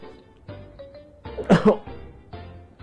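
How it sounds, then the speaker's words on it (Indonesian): A single throaty cough, close and fairly loud, after a few quiet low vocal sounds; no words spoken. "bentar lagi batuk dulu ya"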